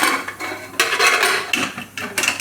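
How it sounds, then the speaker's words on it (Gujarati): A pressure cooker lid is set on and closed over a pot of potatoes and water on a gas stove, giving a few sharp metallic clanks and scrapes in quick bursts, close and fairly loud. "કુકરનું ઢાંકણું બંધ કરી દેવું."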